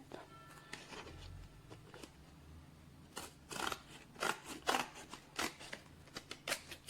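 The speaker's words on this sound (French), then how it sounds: "Donc on va découper là tout ce qui dépasse. Hein, avec le ciseau du coup." Scissors snip through old book pages during a DIY craft, a run of crisp, close cuts that grow louder and more rapid in the second half, with a faint rustle of paper between them.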